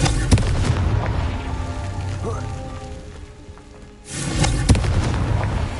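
The Confringo fire spell in the Hogwarts Legacy game bursts as a deep booming explosion with a crackling rumble, repeating as a second blast after a brief lull.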